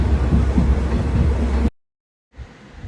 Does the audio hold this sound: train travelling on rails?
yes